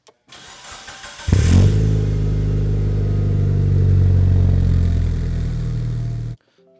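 Mitsubishi Evolution VI engine starting: a brief cranking whir, then a loud catch into a steady, rumbling idle that holds for several seconds before cutting off abruptly, close up.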